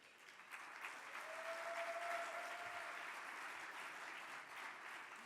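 Audience members at a mayors' climate protection awards luncheon applaud in a sustained, even wash of clapping, moderately distant and soft, with a brief tone sounding over it.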